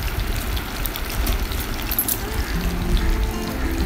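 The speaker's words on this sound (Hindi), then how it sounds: "अब हम इसमें कबाब को फ्राई करेंगे। फ्लेम को बहुत ज़्यादा हाई नहीं रखेंगे, मीडियम फ्लेम पे इसको फ्राई करेंगे।" Kebabs fry in a pan over a medium flame with a steady, close crackling sizzle that runs unbroken throughout, with no voices.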